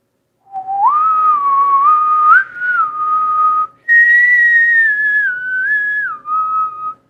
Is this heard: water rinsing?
no